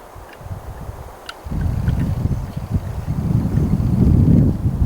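Outdoor wind buffets the microphone, a low rumbling roar that rises and stays strong through most of the stretch, with a few faint clicks on top.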